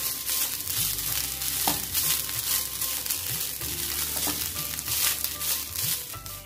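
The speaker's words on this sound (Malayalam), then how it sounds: "ലോ ഫ്ലെയിമിൽ വെച്ചിട്ട് ഏകദേശം ഒരു 5 മിനിറ്റ് തേങ്ങ ഒന്ന് വറുത്തെടുക്കാം" Grated coconut roasts in a pan over a low flame, a steady close sizzle with repeated scraping and stirring strokes throughout, no voices.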